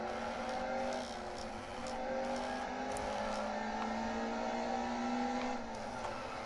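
Race car engines drone steadily in a racing video game using 2017 paint schemes, with cars running close together under a bridge. Layered engine tones rise and fall slightly with continuous, moderately loud revving and no speech.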